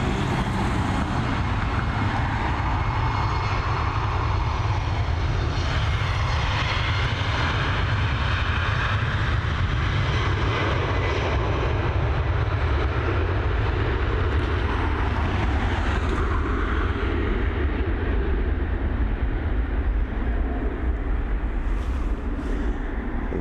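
A fixed-wing airliner coming in to land at Dublin Airport, its engine roar steady and loud throughout the whole stretch, heard from the airfield perimeter with no voices.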